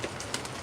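Heavy rain pouring down outdoors, a steady, soft broadband hiss with a few faint patters, fairly quiet and without voices.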